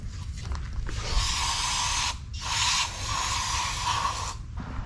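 Aerosol spray squirted through a straw into a 1972 Volkswagen Super Beetle carburetor, a close, steady hiss in two long bursts separated by a brief pause, with no talking.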